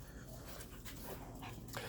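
A Rottweiler pants after running around, quick rhythmic breaths close to the microphone, fairly soft, with a few faint whimpers and light background noise.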